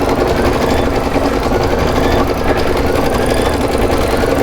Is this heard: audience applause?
no